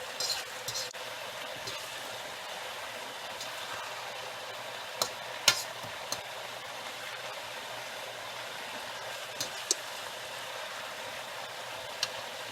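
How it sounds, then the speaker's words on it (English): Fried cabbage and cauliflower mac stirred in a pot, spoon reaching down to the bottom and lifting; a quiet, steady hiss with a few sharp clicks of utensil on metal scattered through. "All the way down to the bottom and lift it back up to the top there."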